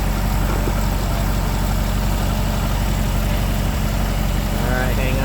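A Chevy Camaro engine idles steadily with its alternator under charging load, a constant low rumble close by, with brief faint sounds near the end.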